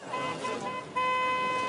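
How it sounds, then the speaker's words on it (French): A car horn honks in a steady sustained tone, stopping briefly and then resuming louder, heard up close over low background noise. "Arrête de klaxonner à chaque fois"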